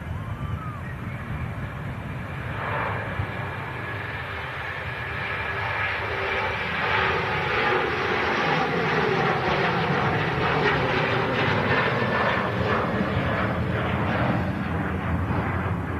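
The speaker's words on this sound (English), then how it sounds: "Ryanair on the way out to Cork" A Ryanair airliner departs Manchester Airport for Cork on an overcast day, its engines a broad rumbling roar that swells and stays loud and continuous as it climbs away.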